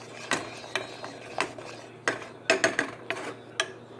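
Garlic butter being stirred in a pan, a utensil scraping and clicking against the metal in irregular, fairly close strokes over a low steady background hum, with no talking.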